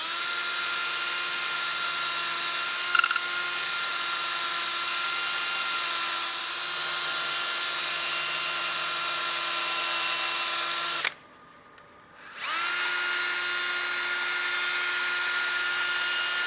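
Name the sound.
drill-powered sanding pad sanding a wooden bowl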